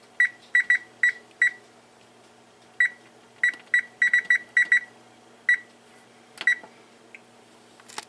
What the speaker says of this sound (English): Well, my timer's going off.